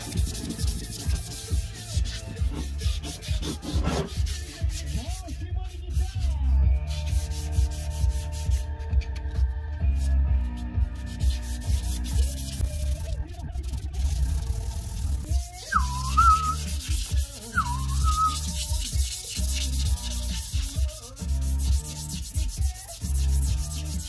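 A Leovinci exhaust from a Peugeot 103 moped is wet sanded by hand at 800 grit, giving a continuous rhythmic rubbing and scraping with occasional squeaky, whistle-like strokes, close and without talk.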